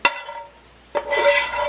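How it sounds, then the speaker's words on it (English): A metal utensil scrapes against a baking dish of taco bake in two short bursts, with a sharp clink at the start and a longer rasping scrape near the end. "Sorry for the scraping noise."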